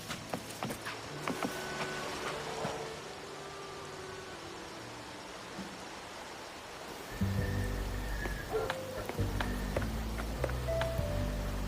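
Rain falling in the video game Wuthering Waves, a continuous soft hiss with scattered game tones and chimes over it, growing fuller and lower partway through.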